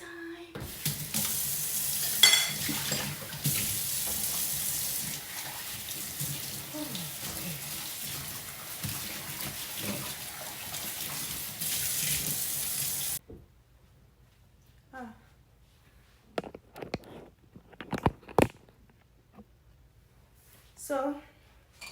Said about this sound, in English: let's finish doing these dishes.